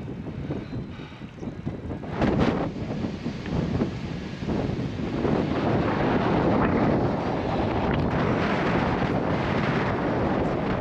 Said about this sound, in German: und der Wind ist so kräftig